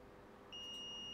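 Multimeter in continuity mode, probing a capacitor on a MacBook Pro Retina logic board, gives one steady, clear electronic beep that starts halfway through and holds, over faint background hiss.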